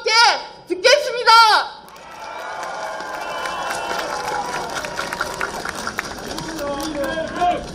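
Crowd applause at a street campaign rally in Busan for candidate Lee Jae-myung, a broad sustained wash of clapping and cheering after an announcer's amplified voice.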